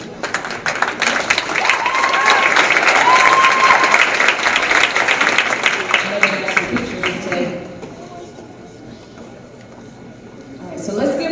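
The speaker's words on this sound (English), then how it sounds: "another round of applause" A gymnasium crowd at a Florence Eagles vs Brookhaven Panthers basketball game applauds the winter court queen and maid. Loud, dense clapping with some cheering rolls on for about seven seconds, then thins to scattered claps and murmuring before rising again.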